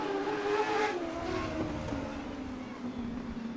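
A race car, the No. 54, circles through turns one and two at Cottage Grove Speedway, its engine note droning steadily in the middle distance with a slight fade as it moves away.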